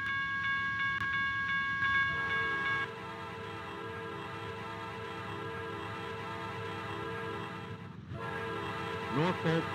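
A Norfolk Southern freight train rumbles past with a sustained horn blast at the start, then steady rolling rail noise with a brief metallic squeal near the end.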